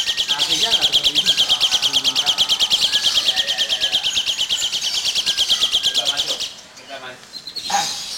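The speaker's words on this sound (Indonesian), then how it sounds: "Jalak suren ini ya." An Asian pied starling (jalak suren) at a breeding aviary sings a rapid, loud, repetitive chattering phrase close by, continuous for several seconds before breaking off, with a voice speaking briefly at the end.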